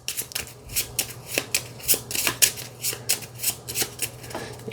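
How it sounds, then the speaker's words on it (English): A deck of game cards is shuffled during a solo Ecosfera: Rebuilding The Wild board game session, producing a steady run of close, crisp riffling bursts at an even rhythm with no talking. "I'll need to shuffle my deck here."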